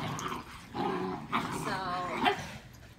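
Lab and shepherd mix dogs and a puppy growl, whimper and give short barks close by, mixed in with people talking over them.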